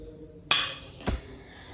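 A metal spoon clinks in a bowl as three tablespoons of milk are added for a homemade milk face pack, one bright sharp clink followed by a softer knock, close and otherwise quiet.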